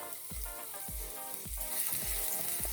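Cumin seeds and garlic hit hot oil in a pan while making palak paneer, giving a steady close sizzle with a few soft thumps as ingredients are dropped in.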